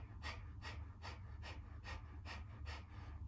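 A rhythmic Kundalini yoga breathing exercise: quick, forceful breaths through the nose pulse about every half-second, eight in a row, soft and steady over a low background hum.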